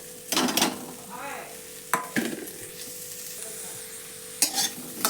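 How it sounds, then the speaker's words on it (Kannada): Chopped onions hiss and sizzle in a hot kadai while a spoon scrapes and stirs in a few sharp bursts, the frying steady and close between the clanks, with no talk. "ಈಗ ನಾ ಇವು ಹೆಚ್ಚಿಟ್ಟಿದ್ದು ಉಳ್ಳಾಗಡ್ಡಿ ಅದ್ರ ಹಾಕೋತೇನೆ ನೋಡ್ರಿ"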